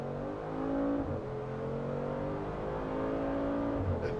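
Supercar accelerating hard from inside the cabin, a loud engine climbing through the revs with quick gear shifts, close and without talk.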